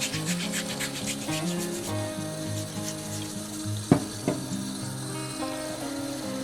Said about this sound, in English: we're just going to take a vegetable scrubber, scrub our potatoes really good.